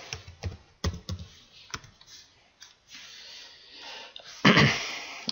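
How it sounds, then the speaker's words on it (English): Someone types on a computer keyboard with irregular, close key clicks and short pauses, ending in a louder flurry of keystrokes. "And all I'm going to do is type something in."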